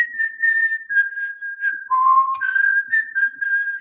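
Someone whistles a tune of sustained, clear notes that slide between pitches, close and alone with no talking, during a live club broadcast.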